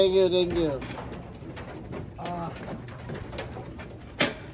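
Large racing pigeons coo and call nearby in a short burst at a race, with a sharp clap or flutter near the end and background voices talking.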